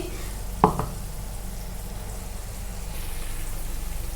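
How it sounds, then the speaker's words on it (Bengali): Onions fry in a pan for a Dhaba-style chicken curry, a steady, even sizzle with one brief clatter near the start and no one talking. "পেঁয়াজটা আমাদের সুন্দর করে এবার ভাজা হয়ে গেছে"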